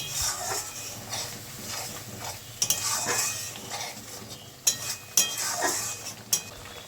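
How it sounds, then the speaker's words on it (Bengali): Broccoli and spices, including Kashmiri chili powder, are stirred and fried in a pan, with a soft steady sizzle under repeated scraping and clinking utensil strokes, close and fairly quiet. "কাশ্মীরি লঙ্কার গুঁড়ো দিচ্ছি, ভালো করে নেড়ে দেব।"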